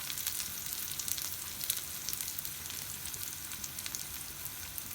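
Oil heating in a pan for frying, a steady, fairly quiet crackling sizzle with fine irregular pops throughout, no voices.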